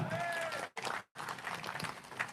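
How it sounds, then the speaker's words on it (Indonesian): Crowd applause at an outdoor religious gathering in Indramayu, Indonesia: a dense patter of clapping cut by two abrupt dropouts, with voices mixed in and a fairly distant, muffled quality. "tepuk tangan lagi"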